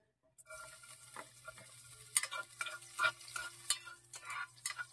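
Garlic drops into a hot pan and starts frying, with soft sizzling and irregular stirring scrapes and clinks close by, quiet overall with a low steady hum underneath.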